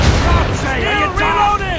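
Ship cannons fire during a naval battle in Assassin's Creed Rogue, heavy booming blasts rolling under shouted crew voices and tonal game sounds, loud and continuous over the short stretch.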